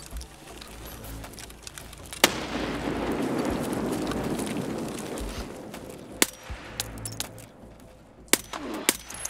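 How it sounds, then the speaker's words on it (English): A grenade goes off in the video game Escape from Tarkov: one sudden loud blast, followed by a long rumbling roar that fades over several seconds, then scattered sharp cracks. "He's right where the grenade's about to blow."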